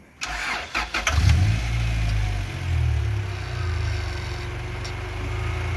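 A 2002 Mercedes-Benz G500 starts: a few clicks, a brief cranking whir, then the engine catches with a loud surge and settles into a steady, close idle rumble, with no talk.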